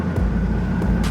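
2015 Ford Focus with a replaced dual-clutch transmission driving along, a steady low engine and road drone with brief bumps where the gears shift.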